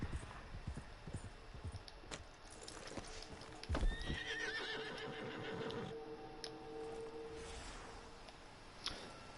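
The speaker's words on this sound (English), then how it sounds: "What's the point of having wild horses in the game when you can't catch them, you can't capture them?" Wild horses in the video game Red Dead Online, with hooves clip-clopping in an irregular rhythm and a loud neigh partway through, over a low game soundscape.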